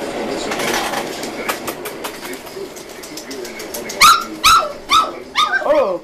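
Puppies play noisily nearby, with shuffling and scrabbling, then a burst of several sharp yips and squeals in quick succession toward the end.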